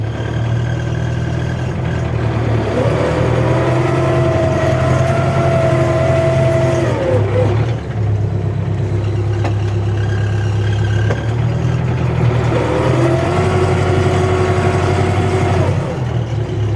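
A tractor reverses across a field pulling a BN-2.4 disc harrow that stays lowered. A loud, close diesel drone holds steady, and a rising mechanical whine swells twice over it.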